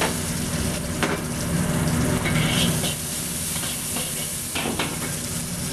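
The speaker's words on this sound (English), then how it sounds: "first we have to put the onion in it. Try to get a little brown the onion" Onion fries in a little oil in a pan for pork Cantonese chow mein, giving a steady close sizzle and hiss. A few sharp scraping clicks of stirring cut through it, and no one speaks.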